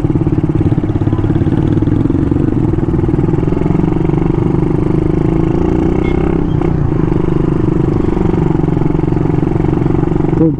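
A tricycle motorcycle engine runs loud and close, chugging steadily at idle with a rough, sputtering rhythm throughout.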